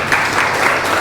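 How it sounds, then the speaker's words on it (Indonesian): A group of participants at a training session gives loud, close applause for all the groups, a dense burst of clapping through the short stretch. "Boleh kita kasih aplaus dulu untuk semuanya."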